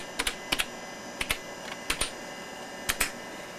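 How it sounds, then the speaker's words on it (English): Keys on a 1989 Fora LP-286L laptop are tapped in irregular, close clicks, mostly in quick pairs separated by short pauses, crisp and alone against a low hum. "Keys are a little slow to respond, it looks like."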